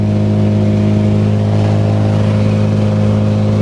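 A Toyota Tercel with a boosted 20-valve 4AGE engine accelerates, its engine note loud, close and steady as the revs build throughout, with no talking.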